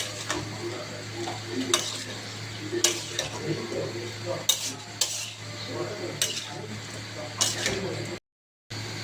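Spoon stirring and scraping through chicken and spices in a metal pan, with periodic sharp clinks against the pan's side over a steady low hum and soft sizzle, with a voice speaking intermittently.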